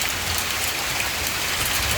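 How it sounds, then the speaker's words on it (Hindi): Heavy rain pours down with falling hail in Oslo, Norway, a loud, dense, unbroken hiss of drops striking surfaces close by, with no voices. "और बड़ी तेज़ बारिश हो रही है और साथ ओले भी गिर रहे हैं।"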